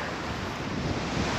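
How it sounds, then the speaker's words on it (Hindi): Sea waves surge onto a hard, rocky shoreline, a dense, continuous roar of surf and wind close to the microphone, steady and unbroken with no talking. "देखिए काफ़ी लहरें यहाँ तक आ रही हैं"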